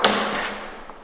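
An old door at the Casera Meluzzo mountain hut in Val Meluzzo opens with a single close thud, followed by a brief scrape as it swings.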